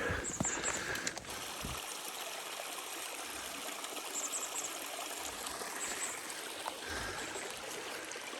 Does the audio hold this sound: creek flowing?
yes